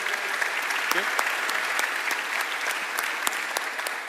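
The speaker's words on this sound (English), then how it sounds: "Big round of applause to our coaches, ladies and gentlemen." A conference audience at a football analysis event on the 2019 Women's World Cup claps for the coaches, a sustained, even wave of applause with a few sharper individual claps standing out over the crowd.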